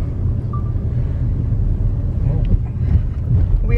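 Car interior on the road, a steady low rumbling engine and tire drone with some wind buffeting, continuous and close.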